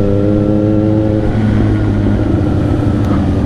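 A Kawasaki motorcycle on the winding Tagaytay–Talisay road keeps up a steady, loud engine and exhaust drone, its pitch easing slightly as the bike rides on, with no voices.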